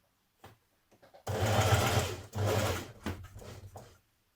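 A sewing machine stitches a seam on an unlined coat (Simplicity 8554) in two close, loud bursts of rapid needle whirring, separated by a brief pause and ending with a few short clicks.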